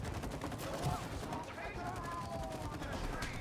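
Shooting in It Takes Two during a boss fight with a swinging sword, steady bursts of fire under game noise and voices talking.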